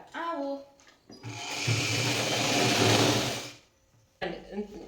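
A sewing machine stitches a dress in one steady, loud whirring run of about two seconds, with people talking just before and after.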